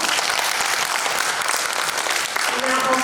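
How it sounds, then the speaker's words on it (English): A hall audience applauds a contestant at a public speaking competition in Thailand, a steady, dense wash of clapping filling the whole stretch at an even, fairly loud level. "Please give her another round of applause."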